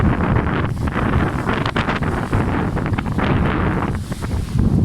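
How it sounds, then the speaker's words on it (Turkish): Gusty wind blasts hard against the microphone, a constant loud rushing roar with rough flutters rising and falling. "Hava da bugün şansıma biraz rüzgarlı. Biraz değil bayağı bir rüzgarlı."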